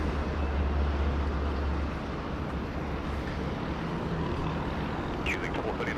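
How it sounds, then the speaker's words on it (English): Qantas Airbus A330 under tow at Sydney Airport, a steady low rumble of tug and airport noise that stays constant and fairly quiet throughout, with no engine spool-up. "Qantas A330 under tow."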